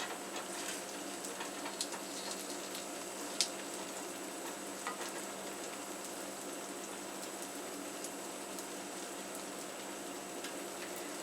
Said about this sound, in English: oil getting out and frying the dough from all the sides